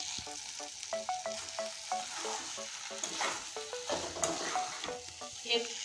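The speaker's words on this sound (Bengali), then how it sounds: "ভেন্ডি ভেন্ডি ভাজাটা আমার হয়ে গেছে" Okra fries in a pan with a soft, steady sizzle while a utensil stirs it in quick, clinking scrapes, close and fairly quiet, with no voices.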